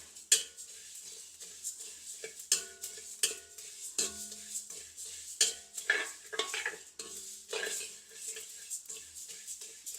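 Fennel seeds dry-roasting in a pan for homemade chilli powder, irregular rattling scrapes and clinks of a spatula stirring, close and uneven, with a faint sizzle in the gaps.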